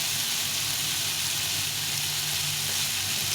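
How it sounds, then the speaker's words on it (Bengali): Boiled vegetables with radish, lightly sweetened, fry in a pan with a steady, loud, even hiss of sizzling oil that runs unbroken throughout with no talking. "সবজিটা সেদ্ধ হয়ে গেছে, এখন এটাকে ভেজে নিতে হবে।"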